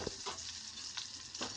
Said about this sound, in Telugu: ఇప్పుడు ఇందులో ఎండుమిరపకాయలు అయితే మనం వేయించుకోవాలండి